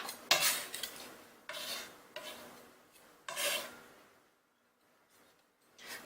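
Minced vegetables are scraped off a wooden cutting board into a bowl, with several separate rasping knife strokes, close and fairly soft, then a brief quiet pause before one last scrape.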